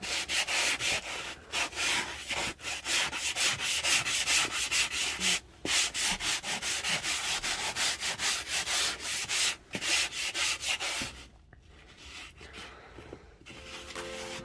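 Coarse 80 grit sandpaper rubs back and forth over wood filler on an Airstream trailer floor, a loud, close, rapid rasping rhythm of strokes with a few short pauses.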